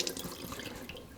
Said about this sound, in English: take it out, rinse it under cold running water to rinse all that vinegar off